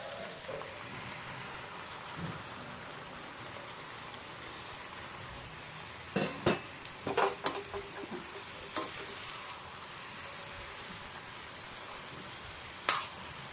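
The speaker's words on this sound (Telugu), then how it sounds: "టమోటా మగ్గేదాకా మధ్యలో కలుపుకుంటుండాల." Ivy gourd and tomato cook in a pan with a soft, rain-like sizzle that crackles continuously at low volume, broken near the middle by a few sharp clinks of a stirring spoon and one more clink later.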